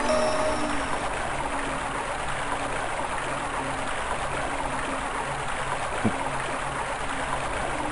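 Flowing water in the game Overblood: a steady, soft rushing stream trickles continuously at low level, with a faint tonal hum beneath and no voices.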